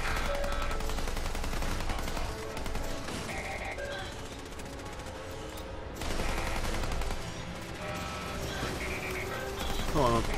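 Rapid bursts of gunfire from the Fallout 4 Automatron video game crackle over a dense, busy game soundscape, with repeated volleys and a brief lull near the middle.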